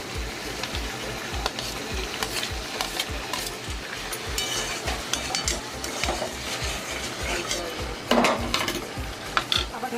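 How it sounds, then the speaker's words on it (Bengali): Curry of chicken liver and gizzard being stirred in a pot, with spoon scrapes and metal clinks repeating in a steady rhythm over a continuous sizzle, close and fairly loud throughout. "আমি মাঝে মাঝে চাপাটা সরিয়ে নেড়ে নেবো।"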